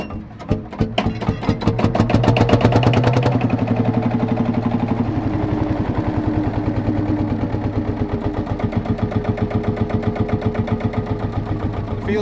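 An old Marshall Field Marshall tractor engine cranks and fires, then settles into a steady, loud chugging idle with rapid regular beats, close by and with no voices.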